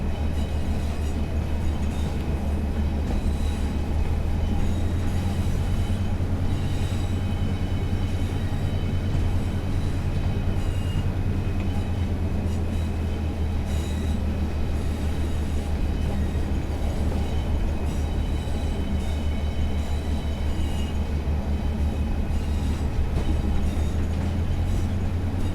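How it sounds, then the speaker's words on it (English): Ex-Arriva TfW Class 142 Pacer railbus on the West Somerset Railway, a steady loud rumble of the diesel unit and wheels on track with thin high squealing tones running through the whole stretch, no talk. "that flange squeal is so loud"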